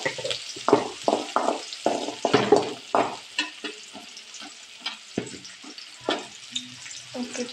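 Chopped onions frying in a pan for a village-style beans dish, a close sizzle broken by repeated scraping strokes and knocks of a spoon stirring them, loud at first, then sparser.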